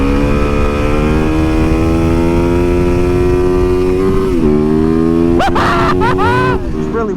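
An MV Agusta motorcycle at speed, its engine holding a loud, steady high-revving drone close to the rider, with a brief shift in pitch and rushing wind near the end.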